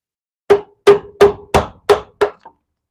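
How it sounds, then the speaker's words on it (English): A wood chisel driven by a mallet during woodcarving: six sharp, evenly spaced wooden knocks about a third of a second apart, each ringing briefly, close and loud with no talk. "Chisel for my amusement."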